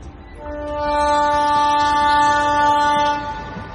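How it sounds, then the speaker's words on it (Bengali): A departing train sounds a long, loud horn, a steady chord that swells and holds for about three seconds before fading over low rail rumble, used as an audio drama effect. "তাই তো ট্রেন ছেড়ে দিল"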